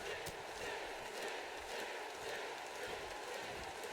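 Wrestling arena crowd roars behind Sting during a match, a loud, dense wall of cheering and yelling with scattered sharp thuds from the ring, continuous and close throughout.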